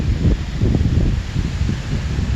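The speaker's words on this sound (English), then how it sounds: "it's getting dark and it is windy" Wind gusts steadily outdoors at dusk, a continuous loud rumble and rustle buffeting the microphone throughout, with no voices.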